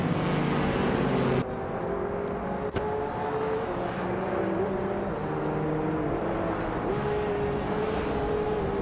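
A 2000 BMW Z8 racing at New Jersey Motorsports Park in a video game roars with a loud, sustained engine tone that rises and dips as it shifts gears, with a sharp transient partway through.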